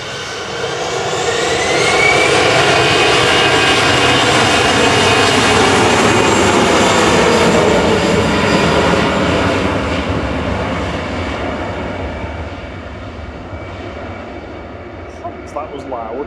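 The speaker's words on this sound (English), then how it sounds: "Ryanair returning from Santander." Ryanair jet airliner arriving at Manchester Airport from Santander, a loud roaring engine sweep that swells, peaks and slowly fades as it passes, heard outdoors from a plane-spotting spot.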